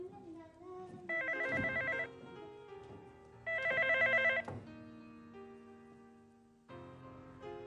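A telephone rings in a TV drama scene, two loud bursts separated by pauses, with a third starting at the end, amid quiet background sounds.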